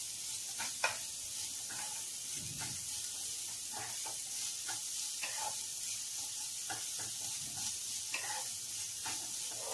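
Shredded cabbage (patta gobhi) stir-fries in a pan, giving a soft, steady sizzle broken by light, regular scrapes and taps of a stirring spoon, heard faintly at close range.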